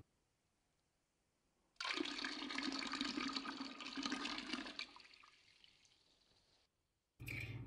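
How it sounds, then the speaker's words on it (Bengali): Water pours into a pressure cooker in a kitchen, a few seconds of steady splashing rush that trails off, followed after a short pause by another brief burst of running water. "সামান্য জল দিচ্ছি।"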